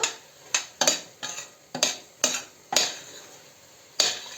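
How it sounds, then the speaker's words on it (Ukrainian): A spoon scrapes and knocks against a pot of thickened apple filling in a series of irregular strokes, about ten clinks over a few seconds, close and fairly loud. "це все розмішаю"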